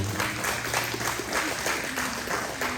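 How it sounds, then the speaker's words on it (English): Congregation in a church clapping together, a steady wash of applause throughout with a faint hum and some background voices mixed in. "Let's give a clap over to the Lord."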